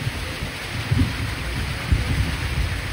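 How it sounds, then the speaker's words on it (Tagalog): Heavy rain pours during a windy storm, a dense, continuous hiss of rain hitting surfaces close by, with low thumps of gusts or distant thunder underneath. "Ay, grabe lakas ng ulan."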